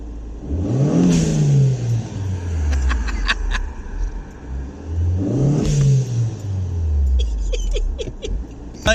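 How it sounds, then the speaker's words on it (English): A turbocharged car engine revs hard twice, each climb ending in a sharp hiss and chatter from the dump valve as the throttle lifts, loud and close with no one talking. "if you got a turbo car and you haven't put a dump valve on it, who even are you? I mean, it sounds ace."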